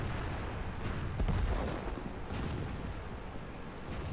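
Tank cannon fire in a tank battle game destroying a Borsig, a heavy booming shot amid continuous low rumbling engine noise and distant blasts, with no talk.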